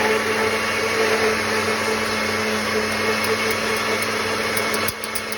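A Hamilton Beach 58148A blender blends spinach with a steady, loud motor whine and churning drone that runs continuously, dipping briefly near the end.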